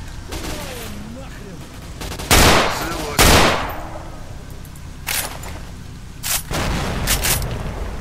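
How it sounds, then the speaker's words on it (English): Gunfire in a video game: loud bursts of shots crack out in several sharp clusters over a steady ambient background, some near and heavy, others shorter and lighter. "Some gunshots."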